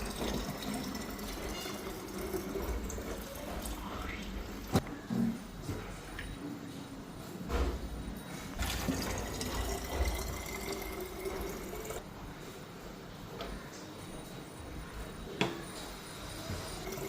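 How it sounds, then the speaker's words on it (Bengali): Water runs and splashes as bottles are filled, a faint continuous gurgling pour with scattered clicks and knocks of handling. "এখন বোতলগুলির মধ্যে জল ভইরা নি"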